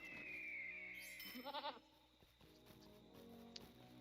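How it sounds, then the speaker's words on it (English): Goats bleating in the Lord of the Rings Online video game, a few quick wavering bleats in the middle over a quiet game ambience, preceded by a high descending whistle-like tone. "Goats."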